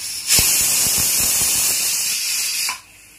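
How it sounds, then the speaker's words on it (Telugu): Tempering for pongal sizzles sharply in a pan as it is poured in, a loud, steady hiss lasting under three seconds with a few crackling pops near its start, then cutting off abruptly. "ఇప్పుడైతే పొంగల్లోకి తాలింపు అయితే వేసుకున్నాం."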